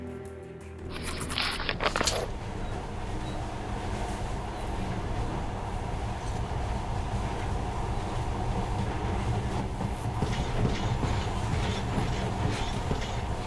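A monorail ride in the video game Metro Redux begins with a brief clatter, then settles into a loud, continuous rumbling roll with rhythmic rail clicks throughout.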